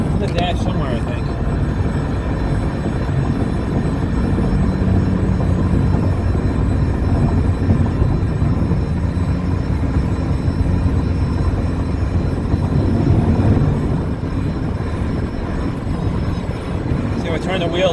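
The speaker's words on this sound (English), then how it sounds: "I got this weird sound, like a balloon being pinched noise." Steady road and cabin noise inside a 2008 Chevrolet HHR driving above 40 mph, with a constant buzz running underneath for the whole stretch and someone talking over it.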